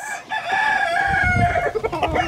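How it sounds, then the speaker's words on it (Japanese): A chicken crows loudly and clucks up close, a shrill drawn-out call with harmonic layers giving way to choppy clucks, a steady low rumble underneath. "これはニワトリです。"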